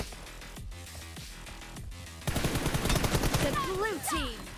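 Gunfire in a first-person team deathmatch battle royale shooter game, a loud stretch of rapid repeated shots bursting in partway through after quieter game sounds.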